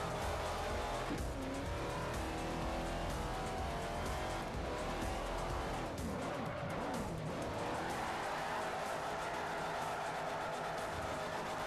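A Plymouth Hemi Cuda in Forza Horizon 4 roars loudly as it drifts around a corner, its engine note rising and falling while the tires squeal and skid continuously.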